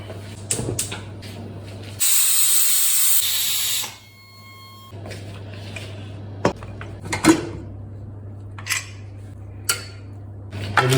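Pork cooking under a lid, giving a sustained loud hiss of steam for about two seconds that then fades, amid clinks and knocks of kitchen utensils over a steady low hum.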